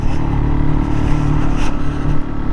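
A Fantic Caballero 500 motorcycle rides off-road along a green lane, its single engine a loud, steady, close throbbing rumble that holds without a break, with no talk.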